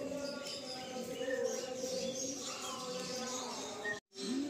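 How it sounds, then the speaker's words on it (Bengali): Madras pigeons in a loft holding over a hundred birds coo and chirp in a continuous, moderately close chorus, broken by a brief dropout near the end. "আমরা যে লফটে এই মুহূর্তে রয়েছি 100-র উপরে পায়রা"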